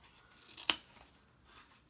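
A single sharp snip of scissors cutting a piece out of a recycled Christmas greeting card, close and quiet, with soft handling sounds around it.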